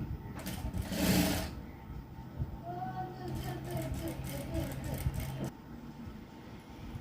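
A sewing machine runs a steady, close whirring stitch through blouse fabric for several seconds, then stops abruptly, with quiet talk in the background.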